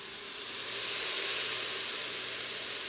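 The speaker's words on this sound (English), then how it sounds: "Put it in the pot with a little bit of oil and a little bit of butter." Cauliflower and onions frying in oil and butter in a pot, a steady broad hissing sizzle that swells slightly and holds, heard close up with no talking.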